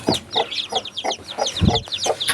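Aseel hen with newly hatched chicks, a rapid run of high, thin chick peeps mixed with a few low hen clucks, close and busy throughout.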